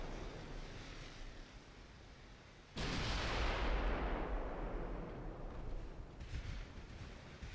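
A 15-inch naval gun salvo in the Ultimate Admiral: Dreadnoughts warship game booms suddenly over low ambient rumble, then rolls on in a heavy, fading roar, with a fainter follow-up thud near the end.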